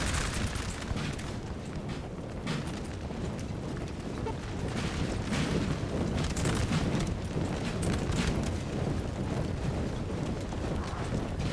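Massed musket volleys and cannon fire from a Napoleonic battle in the Napoleon Total War multiplayer game, a dense continuous roar of crackling shots and booms without a break.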